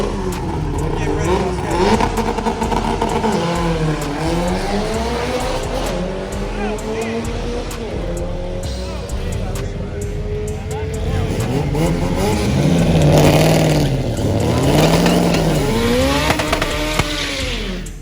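At a car meet, drag-racing cars including a Honda rev and accelerate hard, their engine notes sweeping up and down through repeated gear changes, loud and close, with crowd voices and shouting mixed in.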